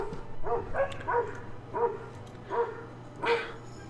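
A dog barks repeatedly indoors from another room, about six evenly spaced, moderately distant barks over a faint steady hum.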